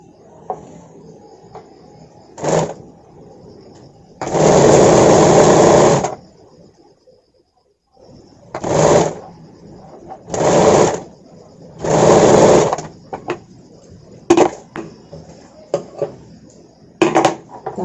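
A sewing machine stitches the hook strip of a katori, bra-cut blouse in several running bursts of varying length, separated by short pauses with faint talk and handling noise in between.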